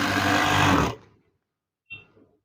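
A sewing machine stitches curtain fabric in a loud steady whir for about a second and then stops, followed by a faint brief clunk.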